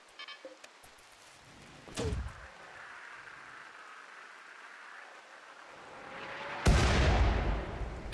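A mortar fires in the video game Rimworld, set in an extreme desert: a sharp thump near two seconds, then a heavy, loud boom with a long rumbling tail near the end, over quiet ambient background.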